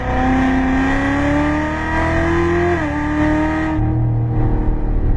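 A race car on a track close by, its engine revving hard with strong rising harmonics through the run, a brief dip and recovery, then a sudden cut to a low idle-like rumble near the end.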